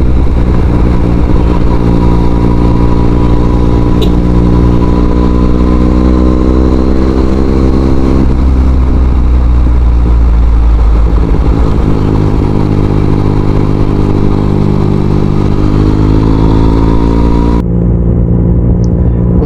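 A 2016 Yamaha MT-09 motorcycle engine runs loud and close, idling with a deep steady rumble and slowly swelling and easing revs before cutting off abruptly near the end.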